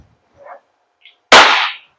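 A WE Glock 17 Force Series T5 gas blowback airsoft pistol fires a single sharp, loud crack with a short hiss of decay, preceded by faint quiet clicks of handling.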